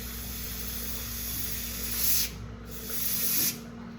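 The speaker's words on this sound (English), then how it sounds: "I like the canned air because I feel like I have a little more control over it than I do a compressor." Canned air sprays in short hissing bursts over alcohol ink on a painting surface: a steady, close spray with two stronger blasts near the end and no talk.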